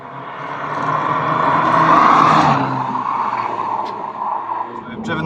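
A Mini cruising at about 20 miles an hour, heard from inside the cabin as a steady engine and road rumble that swells slightly and then eases, with people talking over it.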